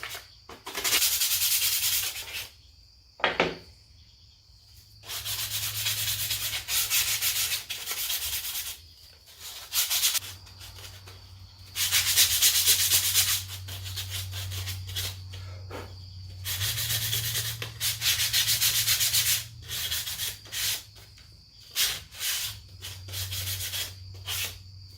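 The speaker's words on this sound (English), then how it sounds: "it starts with a little bit of sanding." Hand sanding of a wooden napkin holder kit to remove fuzzy fibers, loud close rasping strokes in bursts of several seconds separated by short pauses.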